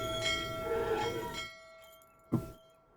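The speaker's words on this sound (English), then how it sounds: "gotta ring the bell" A bell rings once in the Syberia video game, a single short struck tone that follows a stretch of background sound and then fades out.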